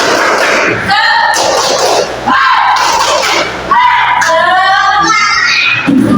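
Students in a classroom loudly shout the tepuk semangat spirit chant in unison, with rhythmic clapping and thumps punctuating the sung calls in several short bursts close to the listener.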